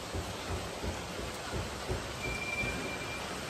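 Heavy rain falls on a flooded street of small vendors' stalls, a constant close wash of noise with low rumbling pulses beneath and no voices.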